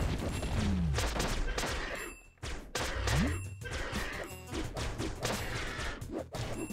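Repeated bursts of enemy gunfire in the game Flinthook, a busy, fairly loud volley of shots with brief gaps and a couple of sliding tonal blips, with no clear talk over it.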